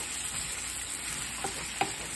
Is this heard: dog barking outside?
no